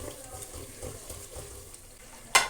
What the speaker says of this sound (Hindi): अब टमाटर डाल के अच्छे से इनकी भुनाई करनी है।